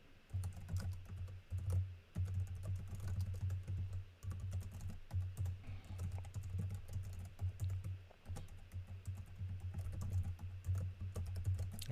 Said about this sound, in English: I'm doing a lot of typing.